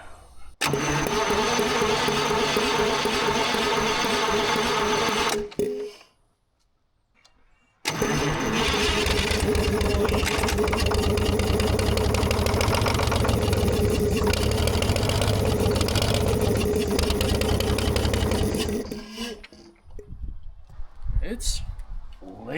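A Detroit Diesel 6-71 engine runs loud and close while sucking air that aerates its fuel, a steady mechanical clatter that cuts out briefly, restarts and runs on before dropping off near the end, with people talking around it.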